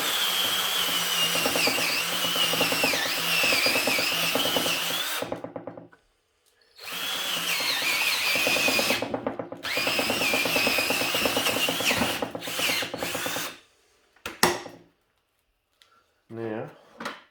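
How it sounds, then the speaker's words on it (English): A power drill spins a hole saw into the root ball of a bonsai during repotting, loud grinding bursts in three long runs separated by short pauses, ending with a few brief taps and knocks. "get the hole saw out and do a couple of hole saw holes"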